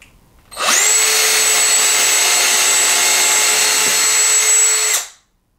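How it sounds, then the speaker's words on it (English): Power drill with a 1/16-inch bit pre-drilling holes for a roller shade valance mount, a loud, steady high-pitched whine starting abruptly, holding for about four seconds and cutting off sharply. "you're going to take a 1/16 diameter drill bit and go ahead and drill your holes"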